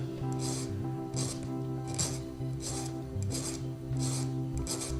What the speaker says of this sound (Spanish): La segunda tarea es limar en forma pareja las 2 puntas donde vamos a aplicar la soldadura.